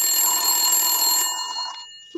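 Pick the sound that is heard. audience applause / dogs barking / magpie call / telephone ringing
telephone ringing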